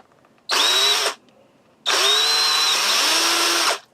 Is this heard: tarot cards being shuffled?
no